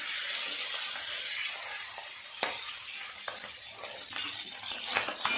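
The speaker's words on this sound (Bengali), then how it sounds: "উল্টে অন্য পিসটা ভালো করে ভাজা করে নেব।" Hilsa fish head pieces fry in a pan with a loud, steady oil hiss that eases slightly over time, while scattered utensil clicks and scrapes punctuate it as the pieces are turned; no one speaks.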